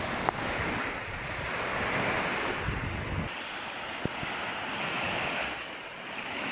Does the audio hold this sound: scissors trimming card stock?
no